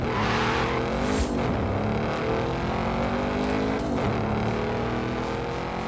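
Porsche Cayenne engine in a racing video game, a steady loud drone with rising and falling gear sweeps as it accelerates through shifts, running continuously without pause and no talking.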